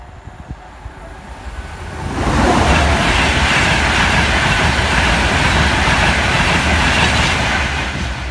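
Train roaring past a level crossing on Grove Road, loud and close, with a rising rumble and clickety-clack of wheels that builds after a quieter start and holds steady.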